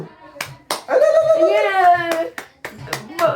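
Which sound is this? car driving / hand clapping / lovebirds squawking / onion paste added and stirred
hand clapping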